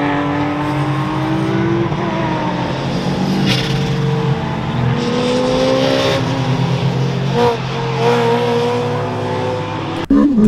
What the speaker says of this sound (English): The little MR2 has its very distinct sound, and it sounds really awesome, the 2ZZ engine.